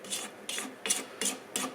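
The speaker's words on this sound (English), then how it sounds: "I'm just going to pick this up a second and scrape down the sides" A spatula scrapes down the sides of a bowl of chocolate chip brownie batter in five quick, rhythmic strokes, each a close raspy scrape.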